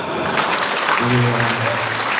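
Applause from the audience at a university community service briefing, a thick burst of clapping under a voice and some background sound, continuing steadily.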